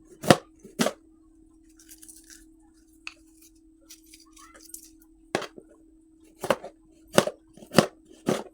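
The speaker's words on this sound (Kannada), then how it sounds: "ಸ್ವಲ್ಪ ರೌಂಡ್ ರೌಂಡ್ ಹಾಕಿ ಕಟ್ ಮಾಡ್ತೀನಿ" Bitter gourd being cut into round slices on a board, a series of sharp knife chops in uneven bursts with pauses between, close and clear over a low steady hum.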